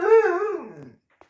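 A greyhound whines and grumbles for a treat in one drawn-out, wavering vocal complaint that slides downward and fades after about a second, close to the listener, followed by a tiny click.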